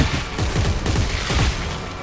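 Rapid bursts of gunfire in the game Dead Space 3, a dense rattling fusillade of repeated shots that continues steadily throughout.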